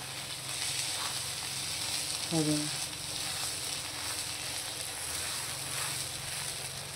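Pav bread toasting in ghee alongside pav bhaji on a hot pan, a steady close sizzle with a brief brighter crackle partway through.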